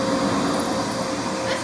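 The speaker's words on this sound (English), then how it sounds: "It's definitely a great vacuum. But anyway, let's go ahead and use it now." Household upright vacuum cleaner running steadily, a loud, even motor whine with broadband airflow hiss, no talking over it.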